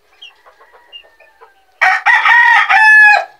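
A few soft, scattered clucks from a nearby chicken, then a loud, close rooster crow ringing out in several drawn-out bursts.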